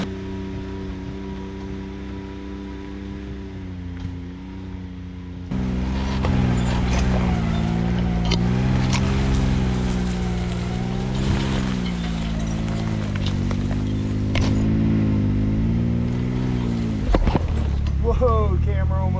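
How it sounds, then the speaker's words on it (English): A Can-Am X3 side-by-side drives off-road while towing a trailer, its engine droning steadily with shifting pitch, growing louder partway through, with jolts and rattles over rough ground. "I'm towing a trailer trying not to hit rocks and bushes."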